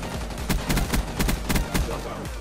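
A shotgun fires in the video game Black Ops 3, delivering a loud, close series of heavy blasts in quick succession, each with a punchy low boom, without talk.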